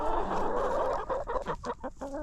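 Chickens in a farm coop cluck close by, a dense mix of throaty, overlapping clucks that gives way to sharper, separate calls from a few birds, with no human voice.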